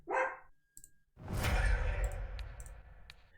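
A dog barks once nearby, followed by a burst of loud rustling and bumping indoors, with faint clicks; no one speaks.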